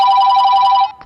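A mobile phone rings loudly and close, one sustained electronic ringtone burst that cuts off abruptly.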